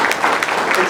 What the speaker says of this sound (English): You deserve a round of applause, I must say.